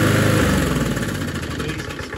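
A small petrol lawnmower engine runs just after a pull start, with its repaired starter, a loud, close, steady puttering idle with a rapid rhythmic chug throughout.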